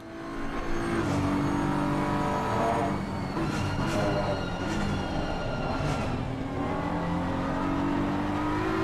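Porsche race car engine at Misano in a racing video game: a steady, loud, droning engine note that holds high revs throughout with slight pitch shifts, and no voices.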